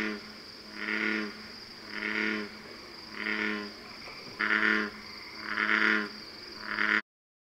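A bullfrog calls in a Wisconsin wetland, giving about six deep, droning croaks, each lasting around half a second and evenly spaced with clear gaps between them, over a steady insect hum.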